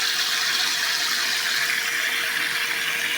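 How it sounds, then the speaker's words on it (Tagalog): Tap water runs steadily into a pot of hard-grained rice being prepared for cacao congee, a continuous close hiss and gush with no talk over it. "lagyan na natin ng tubig."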